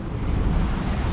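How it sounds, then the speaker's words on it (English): Ocean waves crash against the rocks of a fishing jetty at high tide, a loud, continuous broadband roar mixed with gusting wind buffeting the microphone, with no speech. "when this tide is up and it's crashing against the rocks"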